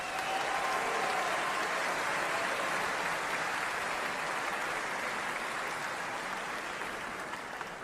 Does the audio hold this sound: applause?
yes